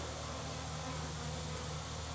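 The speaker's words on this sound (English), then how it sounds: "it's a swarm of bees" Swarm of wild bees buzzing on a ranch, a dense steady drone heard close and unbroken, fairly quiet with no voices.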